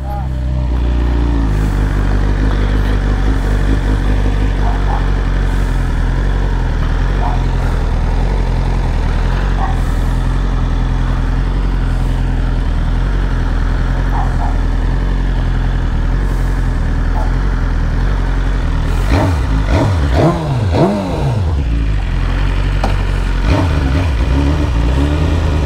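A 2022 BMW S 1000 RR sport motorcycle fitted with a stainless steel 304 exhaust header rumbles and revs on the road amid traffic, with a rider talking over the engine throughout.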